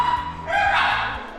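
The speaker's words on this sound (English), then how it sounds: "My dogs are going crazy." Dogs bark and yip in an excited burst nearby, a short cluster of overlapping barks in a home kitchen setting.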